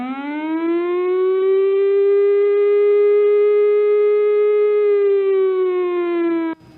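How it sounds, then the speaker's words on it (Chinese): A civil defense evacuation warning siren sounds during flood alerts in Guangfu, Taiwan: one loud, steady wailing tone that holds for about six seconds and then cuts off abruptly. "警报声是这种声音。"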